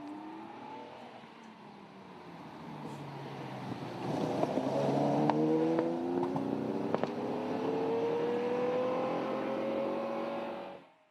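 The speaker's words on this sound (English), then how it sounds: "Superb Jaguar 5-litre V12 engine." A Jaguar XJ13 replica with a 5-litre V12 engine approaches at a sprint event and passes close with a rising, rasping roar. The note swells and shifts pitch as it goes by, then cuts off abruptly.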